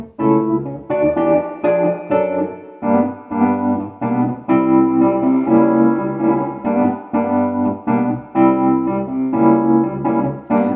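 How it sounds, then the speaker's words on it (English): Sampled Wurlitzer electric piano chords played steadily with a springy, washy spring reverb tail ringing behind each note. "Add some spring reverb."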